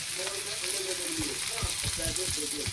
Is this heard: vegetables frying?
yes